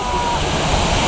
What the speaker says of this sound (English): Into some classic rapids elements now. Some side-by-side waterfalls.